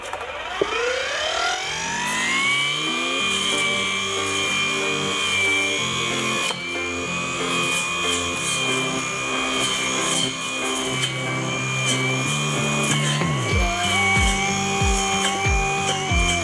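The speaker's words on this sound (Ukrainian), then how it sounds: "Як бачите, суха трава, всякі хащі, кущі, спробуємо, чи буде цей тример брати." A GRAND 4-in-1 battery grass trimmer cutting dry grass and brush: a loud, steady high motor whine that spins up at the start, holds with slight wavering, then dips and recovers near the end.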